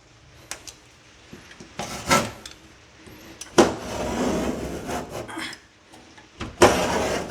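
A blade saws through drywall around plumbing pipes in uneven bursts of rasping and scraping, several separate strokes with brief quiet gaps between them and occasional knocks, close up.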